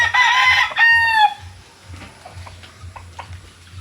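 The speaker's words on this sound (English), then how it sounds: "we've always got fighting chickens. Always. Everywhere." A fighting rooster crows loudly up close in the Cebu mountains, followed by a series of soft, rhythmic clucks and faint scuffling from nearby chickens.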